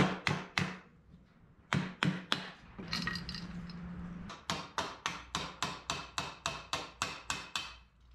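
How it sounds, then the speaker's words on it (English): Tapping with a tool on a part of a Holley two-barrel carburetor during a rebuild: sharp, close metallic knocks in quick runs, with a brief pause and low hum midway, then a steady series of about a dozen evenly spaced taps. "Give this a little tappy-tappy."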